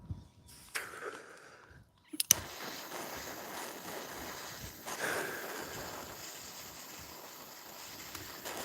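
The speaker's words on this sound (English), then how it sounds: "The wind has not ceased for a moment." Steady outdoor wind blows as a faint, constant rushing hiss with soft buffeting, following a brief quiet stretch and a couple of sharp knocks near the start.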